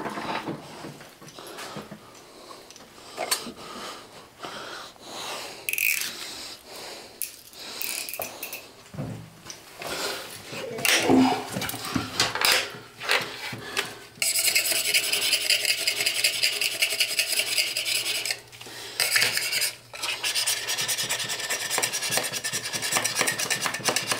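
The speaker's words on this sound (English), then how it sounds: "See if the knife will scrape it up any easier." A knife blade scraping and rasping against the inside of a toilet stack with the toilet removed, producing repeated gritty scrapes that grow louder and denser toward the end, close up and without talk.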